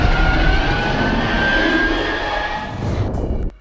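Airplane engines drone in a loud, steady jet roar that fades out abruptly at the end, with no voices.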